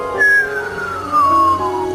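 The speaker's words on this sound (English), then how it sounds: "a strange kind of signal called a whistler. It's produced by lightning" A whistler radio signal produced by lightning sounds as a clear, descending whistle-like tone that slides steadily downward in pitch over about two seconds against a faint background hum.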